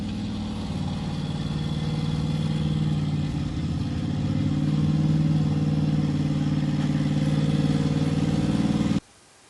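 A car engine runs steadily during a test drive after being put back together, a continuous mid-level drone that swells slightly, then stops suddenly near the end.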